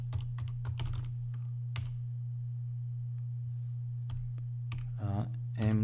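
Computer keyboard keys tapped in short irregular bursts while entering the su command and a password during a Debian 10 Buster install, close and fairly quiet over a steady low electrical hum, with a few brighter clicks near the end.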